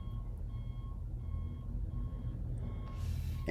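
A vehicle's reversing alarm beeps in a regular rhythm, five evenly spaced tones over low engine rumble, slightly distant.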